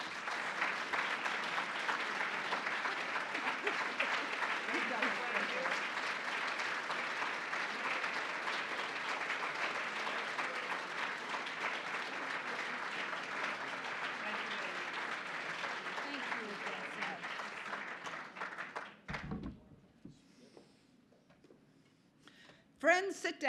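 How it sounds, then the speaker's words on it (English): Gala audience applauding a leadership award recipient, sustained loud clapping from a large crowd lasting nearly twenty seconds before dying away, followed by a few brief handling noises. "I think we could probably clap all night for Ambassador Haley"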